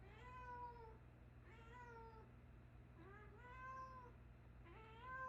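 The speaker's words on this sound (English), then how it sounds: "If you can hear the cat in the background, that is Karma." A cat named Karma gives four drawn-out meows, evenly spaced about a second apart, fairly faint against a steady low background hum.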